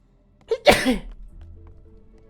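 A single sharp sneeze from a character in the video game Forgotton Anne, a quick intake followed by a loud burst, then quiet game ambience underneath.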